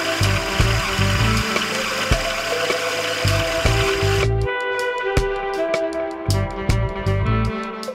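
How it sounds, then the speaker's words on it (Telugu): A mixer grinder churns soaked batter with a loud motor whine and rattling jar, pulsing in short bursts, easing off and restarting partway through. "ఇలా గ్రైండ్ చేసుకోవాలి. మెత్తగా దోసల పిండిలాగా ఉండేటట్టు గ్రైండ్ చేసుకోవాలి."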